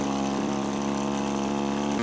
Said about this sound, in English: My handy electric starter kicked the engine to life in a hearty grumble.